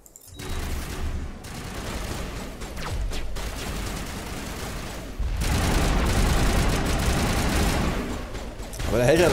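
Sniper gunfire in the video game Mass Effect sounds as sharp bursts and rolling booms of shooting, in intermittent loud volleys, with a player talking over the battle.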